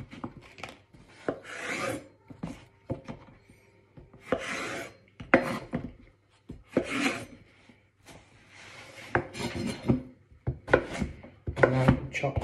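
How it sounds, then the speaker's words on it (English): A knife chops food into cubes on a wooden board in a series of rhythmic, close-up bursts of quick cuts separated by short pauses. "And then chop that into nice cubes."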